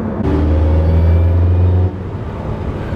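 A Porsche 918 Spyder engine drones low and steady while driving, then the tone drops as the car eases off near the end. The engine is heard close up with no talking.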